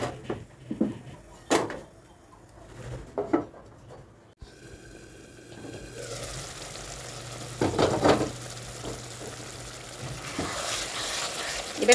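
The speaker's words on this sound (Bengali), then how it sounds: "এইবার নাড়া দিয়ে আমি সুন্দর করে ঢাকা দিয়ে দেবো।" Pointed gourd curry in a frying pan: spoon scrapes and stirring knocks first, then a lid goes on and a steady sizzle takes over, close and fairly loud.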